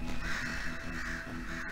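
A crow caws in the video game Night in the Woods, a hoarse drawn-out call repeating in steady pulses over a droning game background.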